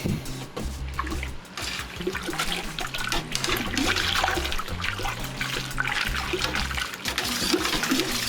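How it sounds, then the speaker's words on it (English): Mosaic hops being stirred into a whirlpool in a Grainfather G2G brewer, heard as continuous close sloshing and swirling liquid with low churning and trickling throughout. "For a half-hour whirlpool, I'm just going to stir them in."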